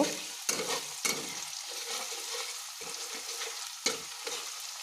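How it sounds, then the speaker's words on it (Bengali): Pomfret masala with garlic paste fries and is stirred in a pan, a soft sizzle punctuated by a few sharp scraping spatula strokes nearby, quiet overall, with no voices. "রসুন বাটা সব দিয়ে ভালো করে একবার নেড়ে দেব"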